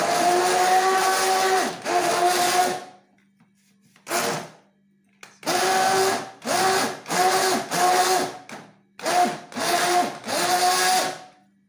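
A blender runs in short loud pulses, first a long whirring burst, then a series of quick on-off bursts with quiet gaps between, blending fruit and peel for black soap shower gel.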